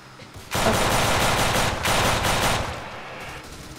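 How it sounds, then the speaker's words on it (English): Rapid automatic gunfire rattles in a Roblox facility roleplay game, two loud sustained bursts with a short gap between them, no voices over it. "Don't shoot him!"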